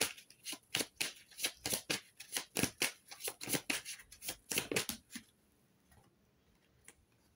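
Oracle cards are shuffled for a card reading, a close run of quick, crisp riffling flicks in a steady rhythm for about five seconds before falling quiet.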